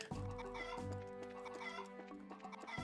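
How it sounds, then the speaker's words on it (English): Chickens cluck repeatedly in the video game The Legend of Heroes: Trails in the Sky, fairly loud and steady over a bed of sustained in-game music, with no talking. "Oh, chickens."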